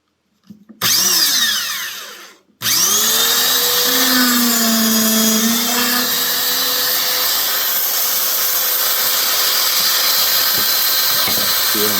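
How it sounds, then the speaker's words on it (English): A Grizzly dual spindle dowel joiner spins up with a loud motor whine, stops briefly, then restarts and runs steadily while drilling dowel holes in wood, the pitch dipping slightly under load, close and continuous. "you want to put your Grizzly tool to drill the holes"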